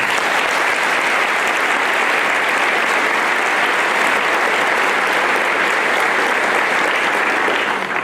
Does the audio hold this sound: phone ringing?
no